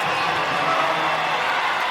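An arena crowd at a women's professional basketball game roars in a continuous, loud, broad swell of cheering with no breaks, heard for a couple of seconds.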